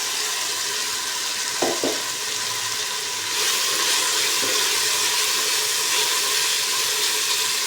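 String beans saute in a pan, giving a steady hiss and sizzle with a couple of brief clinks from stirring partway through, growing slightly louder after a few seconds.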